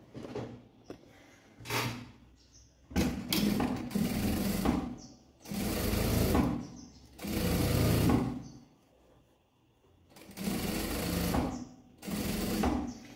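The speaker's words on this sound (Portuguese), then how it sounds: "E vou passar uma costura, vou costurar na beiradinha" Domestic sewing machine stitching along the edge of a large fabric placemat, running in several sustained bursts of a few seconds each with brief pauses and small handling clicks between runs.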